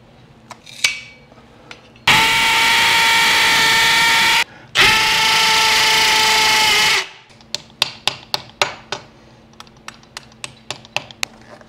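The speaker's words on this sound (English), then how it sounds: "drill a couple holes in the concrete and get this thing mounted up" Power drill boring holes into concrete to mount a wall unit. Two loud sustained whirring runs of a few seconds each are split by a brief pause and followed by a scatter of sharp taps and clicks.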